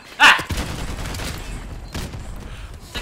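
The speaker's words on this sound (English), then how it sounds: "He's shooting you with a gold gun" A gold gun in Call of Duty: Modern Warfare Remastered fires one sharp, loud shot at the start, followed by fainter scattered reports and background game noise.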